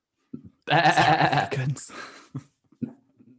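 A man imitates a sheep, giving a drawn-out nasal bleat followed by a few short, softer vocal sounds, close and clear against silence.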